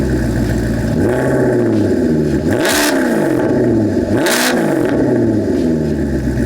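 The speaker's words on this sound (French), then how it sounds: "Maintenant on va écouter le bruit de ce V8 Atmo" The naturally aspirated V8 of a Maserati with its catalytic converters removed revs loudly and close by, with two sharp throttle blips that rise and fall over a constant throbbing idle.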